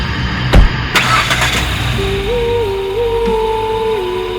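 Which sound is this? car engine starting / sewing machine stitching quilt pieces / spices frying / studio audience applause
car engine starting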